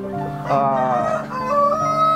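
Free-range native chickens on a large poultry farm cluck and a rooster crows nearby, the drawn-out crowing calls rising over a steady barnyard din.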